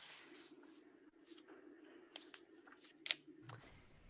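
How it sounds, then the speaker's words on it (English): Typing on a computer keyboard, scattered faint key clicks in uneven bursts over a low background hum, quiet and close, with no talking. "I try to mute when I'm typing because there's people that it got loud."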